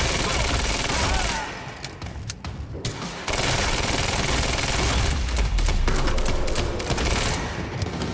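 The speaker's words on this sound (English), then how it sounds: "What the hell is Monarch firing at us?" Dense, continuous gunfire from Monarch soldiers in the video game Quantum Break, loud and close, with heavy volleys that ease briefly midway before resuming at full intensity.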